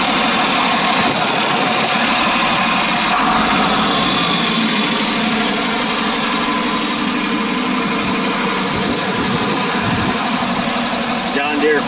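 A 1981 John Deere 4440 farm tractor engine runs steadily close by, a continuous idling rumble with mechanical vibration, while someone talks over it.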